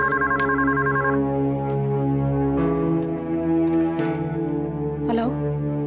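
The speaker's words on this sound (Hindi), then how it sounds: "भाटिया साहब का फोन" A telephone rings in a home at night in an Indian TV drama, an electronic warbling ring pulsing near and loud over a steady musical background score, followed by further tonal sounds.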